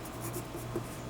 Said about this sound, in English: it's important to remember that when you're hatching, you're using the point